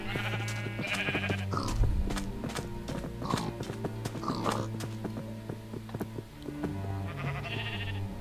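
Sheep bleat repeatedly in Minecraft, several short game-style bleats over a steady background with hoof-like clip-clop steps, loud and near throughout.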